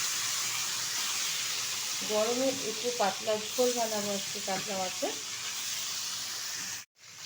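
Catla fish belly pieces frying in hot oil give a steady, close sizzle that runs throughout, with someone talking over the middle stretch.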